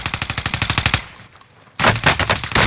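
Rapid automatic gunfire in a battle royale video game: a loud, close, evenly spaced burst of shots, a short pause, then another fast burst.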